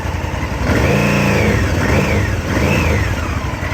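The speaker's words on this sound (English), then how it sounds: "That whistling noise you hear when I rev it up" A Honda VTR 996 V-twin motorcycle engine revs up three times in quick succession, each rev carrying a rising and falling airy whistle of intake air over the rumbling motor.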